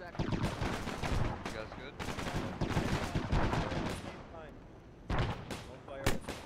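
Video game gunfire in a military shooter, with dense, sustained bursts of automatic fire and sharp shots throughout at close range, while players talk briefly over it.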